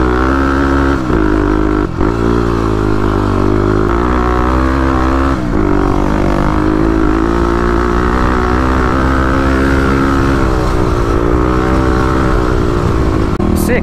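A 35 hp Kawasaki KLX351 dirt bike ridden in sand dunes, its engine droning loud and close throughout with shifting revs and wind buffeting, no clear talk heard.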